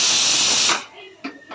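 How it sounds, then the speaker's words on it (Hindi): A kitchen pressure cooker whistle lets out a loud, sustained hiss of escaping steam that cuts off abruptly, followed by a couple of quieter short bursts. "कुकर जो है वो सीटी मार रहा है।"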